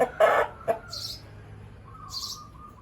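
A bantam chicken close by gives a few short, abrupt clucks and calls in quick succession, then a brief higher call after a short pause, over a quiet background.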